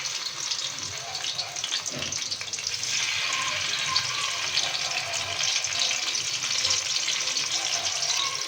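Continuous hissing sizzle of bitter gourds frying in oil, steady and close, with a brief clatter early on.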